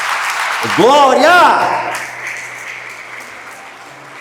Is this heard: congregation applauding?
yes